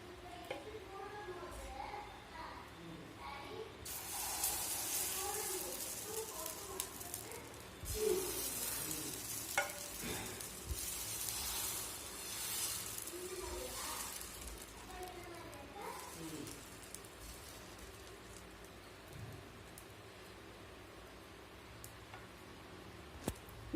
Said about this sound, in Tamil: இப்போ கரைச்சி வச்சுருக்க இந்த மாவை இதில் ஊற்றிடலாம்.